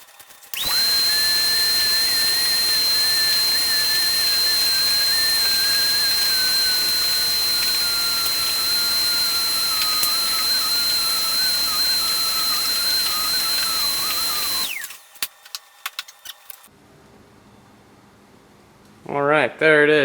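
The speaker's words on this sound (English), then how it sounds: "grab a shop vac, and I'm going to suck that out," A shop vac sucks debris off the floor of a 1997 Jeep Wrangler during a seat swap, giving a loud, steady high-pitched whine with airflow roar for about fourteen seconds before shutting off, followed by brief clatter.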